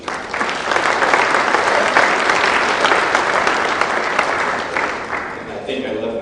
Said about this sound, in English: A round of applause, please, for our grants committee.